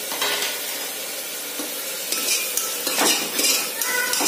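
A spoon stirs onion and tomato with salt in a pressure cooker for chicken biryani, scraping and clinking against the metal over a steady close sizzle, with no voices.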